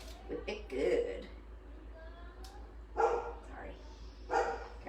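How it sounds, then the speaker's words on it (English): A dog barks in a home kitchen where bacon-wrapped dates are being made, several sharp barks and yips in bursts, fairly close, with people talking in the background. "today you hear Maisie barking"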